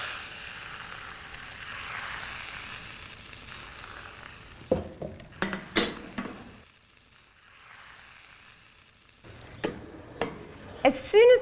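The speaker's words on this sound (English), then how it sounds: "You want your pans really, really hot so that they get a nice, beautiful brown edge to them, and a very thin layer goes in the pan." Thin batter sizzles and fries steadily in a very hot pan, a close, continuous crackle with a few sharp clinks of utensil against pan near the end.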